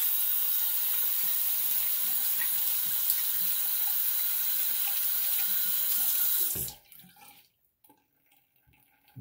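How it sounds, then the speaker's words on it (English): A tap runs steadily into a sink while something is rinsed under the stream, a loud, close hiss of water that stops abruptly, leaving faint drips and small handling noises. "Let me rinse this off real quick."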